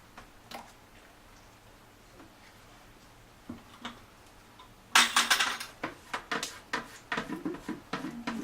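A gallon bucket of paint being stirred by hand, producing a series of close, irregular scraping and knocking sounds against the bucket that start quietly, then grow louder and more frequent in the second half.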